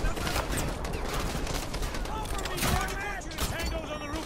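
Sustained automatic gunfire rattles through a firefight in Call of Duty: Modern Warfare 2 Remastered, loud and continuous, with shouted voices over the shooting.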